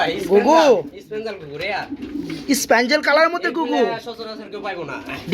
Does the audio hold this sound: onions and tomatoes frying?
no